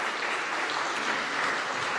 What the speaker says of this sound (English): And a warm round of applause.